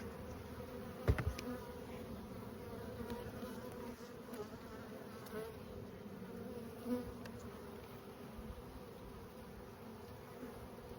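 A dense, steady hum of many honey bees buzzing close by around hive frames of brood with nurse bees, with occasional louder individual buzzes passing near and a few faint knocks.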